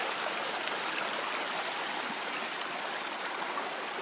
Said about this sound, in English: I just love seeing these babbling brooks